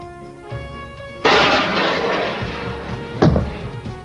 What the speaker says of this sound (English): Now you see the all-weather Mirage aircraft firing Sidewinder missile at the target.